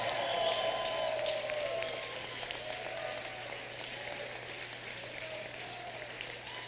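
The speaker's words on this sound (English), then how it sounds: "Let's give him a round of applause for getting that done." A rally crowd applauds a governor during a recall election event, giving a sustained, even wash of clapping with faint cheers and voices mixed in, slowly easing in loudness.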